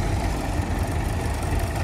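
A Nuffield tractor fitted with a wooden cab rolls past nearby, its engine giving a steady, loud, low rumble throughout with no voices over it.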